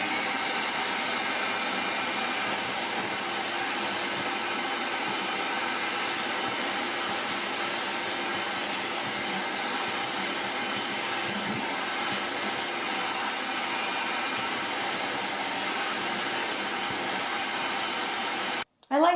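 A Vacmaster stainless steel wet dry vacuum runs continuously, giving a steady, loud whooshing motor roar that holds unchanged for about eighteen seconds before cutting off abruptly.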